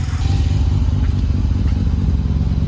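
Streetported Mazda RX7 rotary engine idling steadily, a loud, close, continuous low rumble with a choppy, pulsing exhaust note and light mechanical clatter, running alone without voices.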